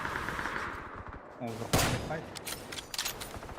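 Bursts of rapid gunfire in the video game PUBG crack through a noisy background, with a voice talking partway through.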